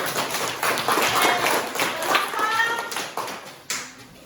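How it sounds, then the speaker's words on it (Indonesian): Children in a classroom clap for a group that has just presented its poster, loose uneven claps with some scattered taps, while a voice and other speech come through beneath them. "Tepuk tangan dong kalau bagus"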